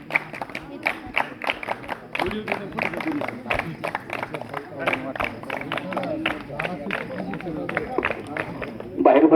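Spectators at a girls' match clap to welcome a guest, a dense run of claps and applause from a crowd mixed with chatter and an announcer's voice, close and lively throughout.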